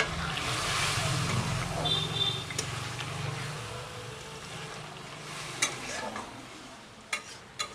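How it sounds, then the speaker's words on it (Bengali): Paneer-soaking water is poured into sizzling palak paneer in a pan. A steady, moderately loud sizzle and bubbling runs throughout, with stirring scrapes and a few sharp clicks near the end. "এবার একটু জল দিয়ে দেবো, ওই পনির ভেজানো জলটাই দেবো।"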